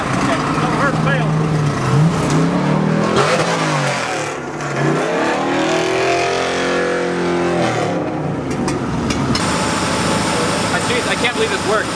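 A drag racing car's engine runs with its crank pulley freshly welded back on, loud and continuous with revs rising and falling, while people talk over it throughout.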